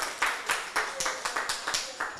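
Sparse clapping for a guest at a parenting community session, about nine distinct, evenly spaced claps at moderate volume, sounding like one or a few people.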